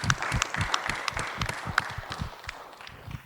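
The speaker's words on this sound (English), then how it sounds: "Applause." Applause from a modest audience at a business forum Q&A, uneven clapping with distinct individual claps standing out, moderately close and thinning over a few seconds.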